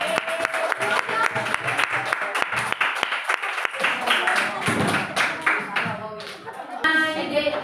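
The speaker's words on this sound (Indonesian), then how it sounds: "tepuk tangan untuk kelas 7" A class of seventh-grade students claps together in a classroom, a lively, fairly close burst of many hands with some voices mixed in, lasting several seconds.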